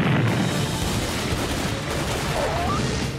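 Gunfire in the video game Tomb Raider: a dense, continuous barrage of overlapping shots and blasts that roars steadily and loudly throughout, with no clear gaps between rounds.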